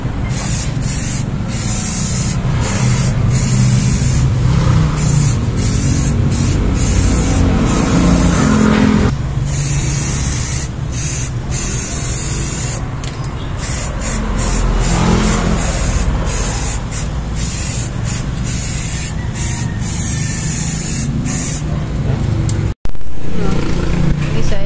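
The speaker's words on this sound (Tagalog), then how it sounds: "Spray paint na lang mga dalawang ganito." Aerosol can spraying gray primer coating onto the underbody of a Pajero Gen 2 4M40 4x4, a steady hiss running continuously with brief pauses, close and loud over a low rumbling background.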